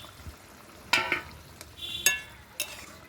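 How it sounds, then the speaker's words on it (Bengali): Boal fish pieces going into a simmering spicy curry gravy, with a few sharp splashy bursts and sizzles over a low bubbling background, close and without talk. "এবার মাছগুলো দিয়ে দেবো ঝোলের ভিতর"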